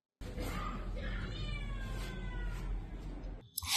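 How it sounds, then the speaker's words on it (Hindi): A cat meows in a drawn-out, wavering cry over a steady low rumble of background noise, fairly close, with a sharp knock at the end. "आवाज आ रही है एक बिल्ली की"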